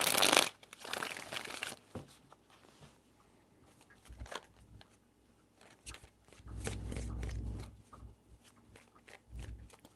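Tarot cards being shuffled, a brisk riffling burst at the start followed by softer scattered card rustles and handling sounds, with no one speaking.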